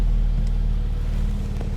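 A 2020 Porsche 911 Carrera 4S PDK Convertible with a 3.0-litre engine gives a steady, deep, even rumble, close and continuous, with no voices.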